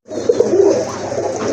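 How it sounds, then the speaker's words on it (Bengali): Fancy pigeons at a Bangladeshi pigeon sale coo in soft, repeated low calls, close by and steady for a second or two with no talking over them. "এটা হচ্ছে মাদি কবুতর"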